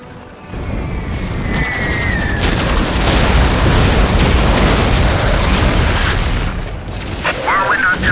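Imperial Guard artillery opens fire in the strategy game Warhammer 40K Dawn of War Dark Crusade, a loud sustained rumble of shell blasts and booms filling the battlefield, with a commanding voice shouting orders over the barrage.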